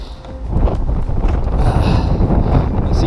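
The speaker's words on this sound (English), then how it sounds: "that wind is a bit fierce and cold" A fierce, cold wind buffets the microphone on a beach at Shepards Chine on the Isle of Wight, a loud, constant low rumble with gusting rustle and no talking.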